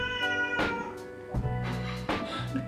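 A cat meows several times in a row, short harmonic calls spaced about a second apart, fairly close but at moderate volume over a faint steady background, with no talking.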